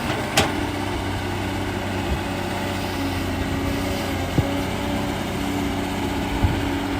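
A Komatsu PC200-5 excavator engine runs at a steady, low idle-like drone, with a few faint clanks and knocks scattered over the rumble.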